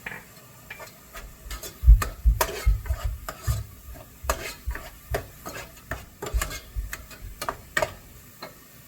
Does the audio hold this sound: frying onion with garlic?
yes